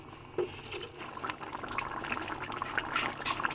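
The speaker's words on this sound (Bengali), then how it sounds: "এবার এর মধ্যে দিয়ে দেব কিছুটা গরম জল" Hot water is poured into chicken kosha cooking in a pan, giving a steady, moderately loud splashing and gurgling pour that runs throughout, with no talking.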